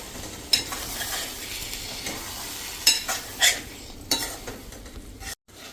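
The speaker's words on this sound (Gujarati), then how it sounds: "તો આ રીતે મિક્સ કરી લેશું." Boiled split moong dal with husk is stirred in a pan over a low gas flame, a steady soft sizzle with scraping strokes and a few sharper clinks of the spoon against the pan, with no talk.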